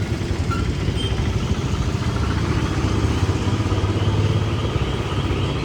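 A motorcycle rides steadily toward the underground bike parking of a Lulu mall, its engine a continuous close rumble with clattering texture throughout and no talk.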